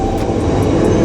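Loud, steady engine roar of a motorcycle popping a wheelie inside a prison cell block, a continuous broadband drone filling the enclosed space with no pauses.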